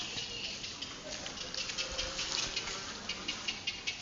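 Rain falls on an empty street at night as a soft, continuous patter with faint irregular ticks of drops, fairly quiet and without talking.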